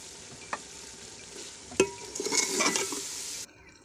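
Split Bengal gram being stirred and roasted in masala over low heat, with spoon scrapes and clatter building to a fuller sizzle that cuts off near the end, all close up and wordless.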